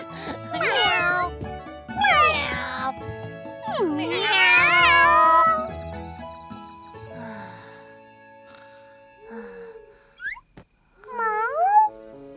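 A cartoon cat meows in several loud, drawn-out, rising and falling cries, close and clear, with softer mews and voices in between.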